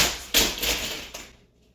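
Dogs knock down a kitchen gate: a sudden loud crash and clatter, a few rattling knocks, then the sound quickly dies away into quiet.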